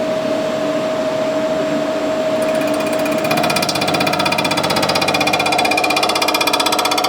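Machine tool cutting about ten thousandths of metal off a crooked LS engine part, a steady loud rattling chatter that grows denser and harsher partway through, continuous with no talk.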